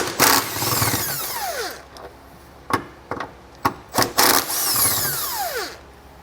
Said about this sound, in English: I'm going to get my 13mm on there, loosen those up